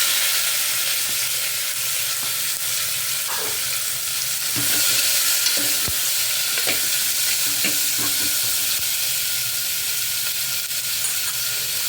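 Onion, tomato and green chillies sizzle and fry with asafoetida in hot oil, giving a steady close hiss throughout with occasional stirring clinks and no talking.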